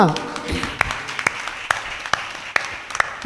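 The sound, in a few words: church congregation clapping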